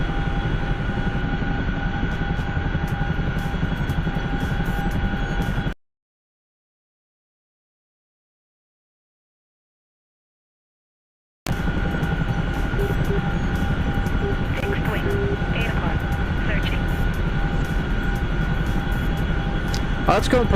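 A Chinook helicopter in a video game gives off a steady, loud droning rotor and engine roar that cuts out briefly, then resumes unchanged.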